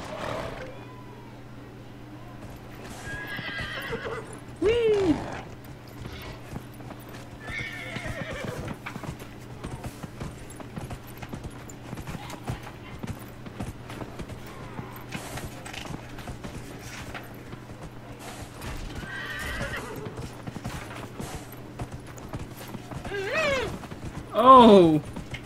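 A horse in Dragon Age Inquisition gallops with a steady clip-clop of hooves and lets out several loud whinnies across the stretch, while a player talks quietly and intermittently over the game sound.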